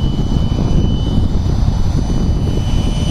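An F-15 64mm model electric ducted-fan jet makes a low pass, its steady, loud whining roar holding close throughout with a sustained high-pitched tone and no voices.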